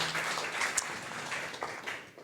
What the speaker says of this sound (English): give each other a round of applause for the typing and the writing, the talking